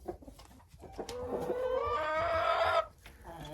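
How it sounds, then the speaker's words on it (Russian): Backyard laying hens clucking and calling in a coop, a sustained near cackle building over a couple of seconds with softer clucks and rustling before and after. "Труженицы и красавицы эти курочки."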